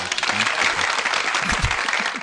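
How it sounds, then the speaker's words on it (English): A small studio group gives a round of applause on a talk show, dense clapping lasting a couple of seconds with a voice briefly speaking underneath. "Give him a round of applause."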